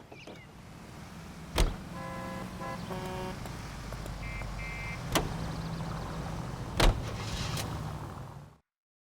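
Car being driven in L.A. Noire, a low engine rumble under faint street ambience, with a few sharp knocks and short melodic tones along the way, no talking.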